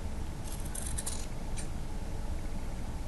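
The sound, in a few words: scissors cutting away extra fabric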